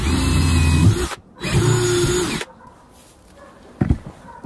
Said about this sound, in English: We're only going to drill through the first side.